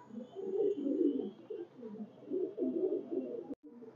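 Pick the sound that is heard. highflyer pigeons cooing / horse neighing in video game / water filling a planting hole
highflyer pigeons cooing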